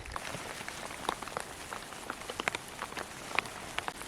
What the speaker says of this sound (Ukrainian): І дощ не перестає падати.